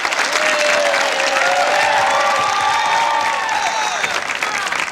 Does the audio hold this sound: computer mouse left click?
no